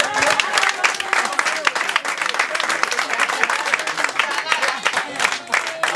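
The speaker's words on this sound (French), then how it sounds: "Est-ce qu'on peut applaudir, s'il vous plaît?" Guests at a customary wedding ceremony applaud in a dense, continuous round of clapping lasting several seconds, with crowd voices and some talk mixed underneath.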